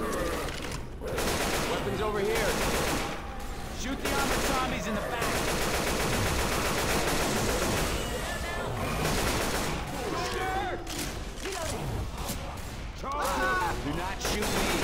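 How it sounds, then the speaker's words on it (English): Sustained automatic gunfire in Left 4 Dead 2 rattles in long bursts against armored zombies, loud and near, with brief gaps between volleys and players talking over the shooting. "Shoot the armored zombies in the back."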